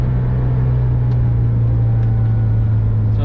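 A Volkswagen Vanagon with a Honda K24A engine drones at about 4,000 RPM while driving slowly, a low constant hum and rumble inside the vehicle, with a few faint clicks.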